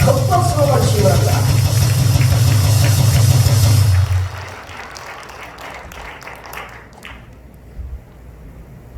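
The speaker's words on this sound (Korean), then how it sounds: "큰 박수로 맞으시기 바랍니다." An audience claps loudly and steadily to welcome a speaker at a lecture event, a dense sustained applause that cuts off abruptly partway through, leaving quieter room noise and faint murmuring.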